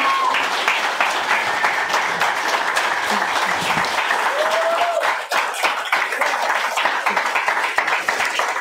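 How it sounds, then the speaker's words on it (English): An audience claps steadily after a poetry reading at a fellowship event, sustained applause throughout with occasional brief vocal sounds mixed in. "Please, another round of applause for Abby"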